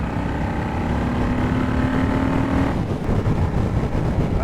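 A 2006 Honda VLX600 motorcycle rides along with a steady engine drone mixed with heavy wind rush, a faint tone shifting mid-ride, and no voices.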